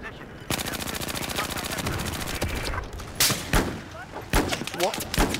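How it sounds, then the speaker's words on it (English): Rapid automatic gunfire from Battlefield 4 rattles continuously in close, loud bursts, then breaks into heavier separate shots and blasts near the end. "I'm pumping in shot after shot!"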